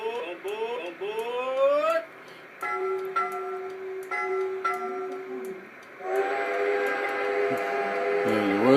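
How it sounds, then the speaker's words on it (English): A Bachmann model train whistle sounds in a few tonal hoots with short breaks, then a longer held blast, close and clear with faint mechanical ticking underneath. "there's the whistle"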